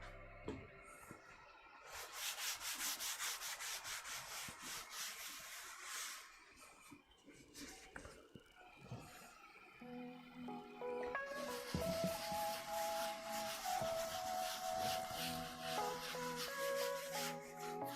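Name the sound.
rubbing and cleaning a 3D printer bed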